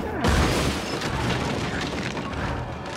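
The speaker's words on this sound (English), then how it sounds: "Shoot your gun." A single heavy gunshot booms near the start of a Little Nightmares 2 game scene, followed by a loud, rumbling wash of noise that lingers to the end without speech.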